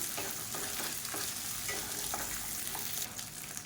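Dried red chillies and tamarind being sautéed in a pan for Tamil chutney, a steady close sizzle with soft stirring scrapes throughout, no talking.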